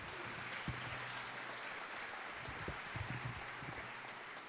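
An audience at a school student showcase meeting in Glendale gives a sustained round of applause, with soft, even, rain-like clapping that sounds somewhat distant and subdued.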